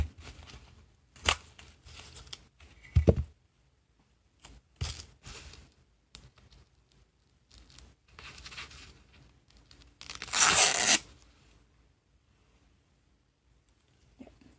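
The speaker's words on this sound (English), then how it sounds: "Let's apply double-sided tape here." Double-sided tape is torn and applied while crafting a junk journal, with sharp ripping and crinkling bursts separated by quiet pauses, including one longer close tear near the end.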